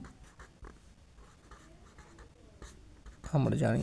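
Pen scratches across paper while an algebra problem is worked out, a soft, faint, irregular scraping that ends in a louder burst of sound.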